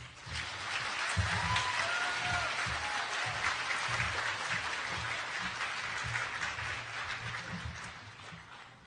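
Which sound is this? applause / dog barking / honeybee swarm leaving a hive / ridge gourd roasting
applause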